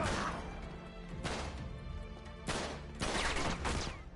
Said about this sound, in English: I guess it wants me to lob a grenade down on him